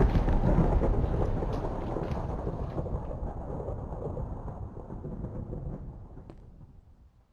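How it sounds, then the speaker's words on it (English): Thunder rolls through a Minecraft thunderstorm, a long loud rumble with sharp crackles early on that slowly fades over several seconds, heard alone with a soft rain hiss beneath. "we might get struck by lightning"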